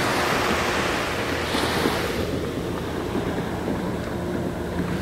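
Surf washes onto a Gulf of Mexico beach in a steady, close rush, mixed with buffeting wind noise, the wash swelling slightly and easing again.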